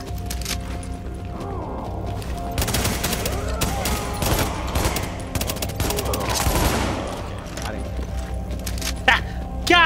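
Rapid bursts of automatic gunfire in a video game, dense crackling volleys swelling and fading, mixed with mechanical clicks, while players talk over the shooting.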